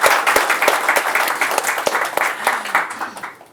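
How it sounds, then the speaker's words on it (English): An audience at a celebrity interview about family and films breaks into loud, sustained applause, a dense wash of many hands clapping with a few sharper claps standing out, gradually thinning toward the end. "can we give a round of applause?"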